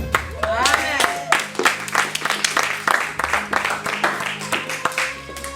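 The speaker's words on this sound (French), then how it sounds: "Est-ce que vous pouvez acclamer pour vous-même?" A church congregation applauds and cheers in bursts of clapping that swell and fade, with a voice speaking over it and some music.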